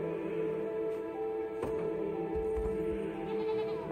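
A goat in the video game Unicorn Overlord gives a short bleat, with a quiet steady game background underneath.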